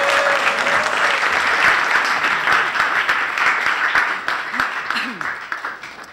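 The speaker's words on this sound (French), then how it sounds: "Je crois qu'on peut l'applaudir." Applause from a group in a French film scene set around a school headmistress, steady, full clapping throughout with a voice briefly heard beneath it, tapering slightly toward the end.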